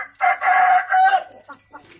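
A Madura free-range rooster crows once up close, a loud cock-a-doodle-doo followed by a few short clucks.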